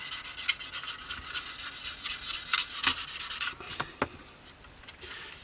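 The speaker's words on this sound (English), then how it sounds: "just light pressure on the sander, letting the sander do the work" Foam sanding sponge rubbed with light pressure along the fuselage of a Tamiya 1/48 scale Beaufighter model near the tail wheel bay, a soft, close, rhythmic scratchy rasp of repeated strokes that eases off toward the end.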